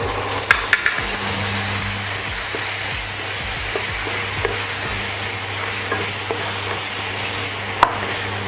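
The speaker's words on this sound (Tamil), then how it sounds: "இந்த டொமேட்டோ கொஞ்சம் நல்லா மசியாக வேகட்டும். அந்த எண்ணெயிலே அது வேகட்டும்." Chopped ripe tomato sizzles and fries steadily in hot oil for a village-style rasam, a loud continuous crackle close up with occasional stirring clinks and no talk.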